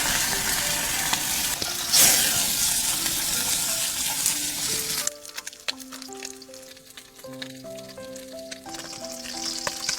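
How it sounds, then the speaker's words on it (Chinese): Small whitefish sizzle loudly as they drop into oil heated until smoking, a dense, steady crackle that thins after a few seconds while music plays over the frying. "油烧到冒烟，下入白条。"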